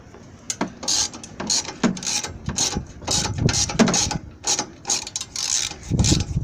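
A ratchet wrench clicks in quick repeated bursts while removing the strut bar on a 1999–2000 Suzuki Grand Vitara 2.5L, close and loud with short pauses between strokes.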